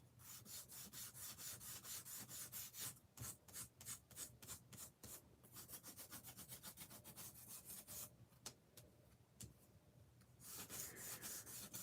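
Rhythmic scratchy rubbing as Tim Holtz metallic paper with a real metal layer is sanded by hand, quick back-and-forth strokes with brief pauses, close and fairly quiet.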